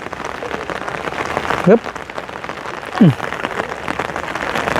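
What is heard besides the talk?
rain falling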